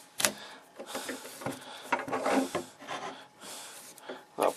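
A blade cuts through a thin wood veneer with a scrap piece of veneer laid on top, making irregular close scraping and rasping strokes in short bursts, with a few brief knocks.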